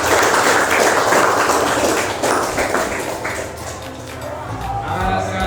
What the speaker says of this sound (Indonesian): Beri tepuk tangan buat teman-temannya.